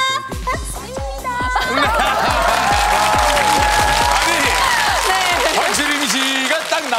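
Studio audience clapping on a Korean TV family game show, loud rhythmic claps mixed with a bouncy musical jingle and a little laughter, continuous for several seconds before easing off.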